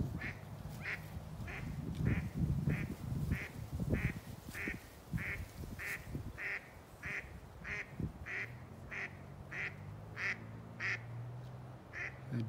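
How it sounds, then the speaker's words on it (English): A duck quacks loudly and repeatedly in a steady, evenly spaced series of calls, with geese present in an outdoor morning setting and faint background murmur, rustle and a brief voice. "That duck is definitely loud,"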